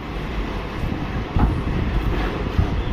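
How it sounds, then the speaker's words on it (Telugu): A train pulls out of Kacheguda railway station, its low rumble and rolling wheel noise steady and close, with a few heavier thumps along the way. "కాచిగూడ రైల్వే స్టేషన్లో మనకి ఇక్కడ 8 గంటలకు ట్రైన్ స్టార్ట్ అయింది"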